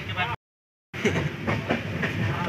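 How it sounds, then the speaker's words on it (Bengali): The Poorva Express sleeper-class train runs beside a hill with a steady rumble and rhythmic clickety-clack of wheels on the rails, heard from inside the carriage after a brief drop to silence. "এইবারে আমাদের ট্রেনটা আস্তে আস্তে একটা পাহাড়ের পাশ দিয়েই যাচ্ছে।"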